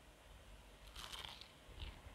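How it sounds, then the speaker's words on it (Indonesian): A bite into a crispy layered pastry filled with curry, giving a short, close crunch followed by a softer second crackle over low background noise. "Rasanya enak, gurih, wangi kari dan kulitnya crispy banget."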